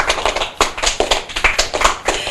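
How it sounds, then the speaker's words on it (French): Children clap together after a book presentation, close and loud, with quick uneven hand claps forming a lively patter that continues steadily without talk. "on applaudit Thaïs qui nous a fait une très belle présent"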